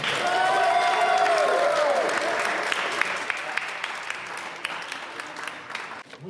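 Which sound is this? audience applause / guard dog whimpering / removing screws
audience applause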